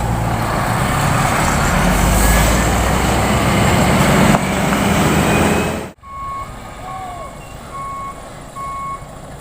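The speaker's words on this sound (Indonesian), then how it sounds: "Yang membawa mesinnya Scania guys." A Scania truck hauling a giant PC1250SP machine roars loudly and close by, its heavy engine drone suddenly dropping away, followed by a few clear, repeated tonal beeps over a quieter engine rumble.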